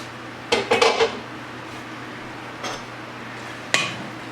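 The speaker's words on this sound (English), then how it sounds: "Cover this up, get those noodles hot, then we'll mix it up a little bit again" Metal utensils clatter against a pan holding fettuccine noodles being mixed and heated, a quick cluster of knocks followed by two isolated clinks over a low kitchen hum.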